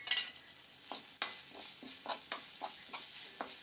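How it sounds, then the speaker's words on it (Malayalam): Grated coconut roasts in a pan for koottukari, with a continuous close sizzle broken by repeated scraping stir strokes at an uneven rhythm. "മൂത്തിട്ട് അതിൻ്റെ അകത്തേക്ക് നമുക്ക് തേങ്ങയും കൂടെ കുറച്ച് വറുത്തിടാം."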